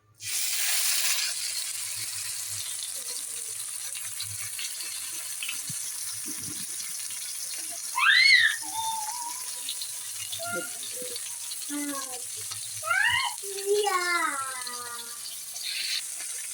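Masala-coated fish frying in oil in a pan on the stove gives a steady, close hiss of sizzling from about a second in, with brief high chirping whistles rising over it later.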